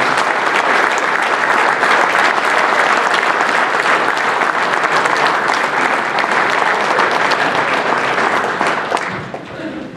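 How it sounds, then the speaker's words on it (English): A large audience at a baseball Hall of Fame induction ceremony applauding Hall of Famers, with dense, steady clapping throughout that fades near the end. "let's give all these Hall of Famers a round of applause"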